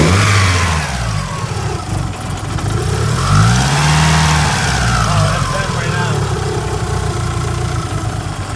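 A 500hp DSM car engine revs loud and close throughout, its pitch rising and falling in a couple of sweeps over a steady rumble, with faint voices underneath.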